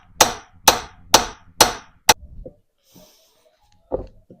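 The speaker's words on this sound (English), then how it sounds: "Yesterday I was able to bang this bottom joint out with just a hammer, so I'm gonna give it a try again today." A hammer strikes a steering ball joint on a 1965 C20 pickup: five loud, sharp metallic blows at an even pace, then a pause with faint clatter and one more lighter hit.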